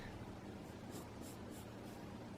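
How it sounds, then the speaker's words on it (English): An eraser rubs across a pencil drawing of a Spinosaurus in a few soft, rhythmic back-and-forth strokes, quiet and close, with no talk. "so I'm going to erase that part"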